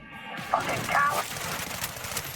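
Submachine gun fire crackles during a firefight in the video game Cyberpunk 2077, a short rattling burst that is fairly quiet and mixed with distant combat noise.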